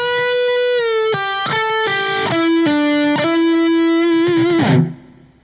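Electric guitar with distortion plays a slow, deliberate phrase from a song's solo, a string of separate picked notes stepping down in pitch, loud and close, ending on a held note that fades out.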